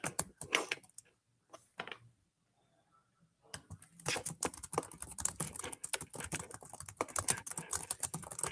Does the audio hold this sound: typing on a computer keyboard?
yes